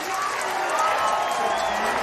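Bowling alley crowd at a tournament cheering and applauding after a strike, a sustained roar of clapping and shouts at moderate distance.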